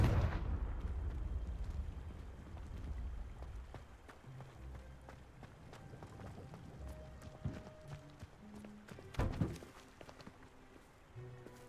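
A Confringo spell explosion in the Hogwarts Legacy video game bursts with a deep rumbling blast at the start, followed by quieter game ambience, running footsteps and a second sharp burst near the end.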